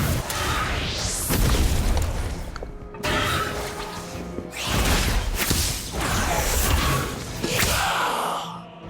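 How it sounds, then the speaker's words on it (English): A Confringo explosion spell goes off in the Harry Potter: Magic Awakened video game, a loud burst of booms and crashes over dense, layered game music and effects, with several surging impacts across the span. "Now Confringo!"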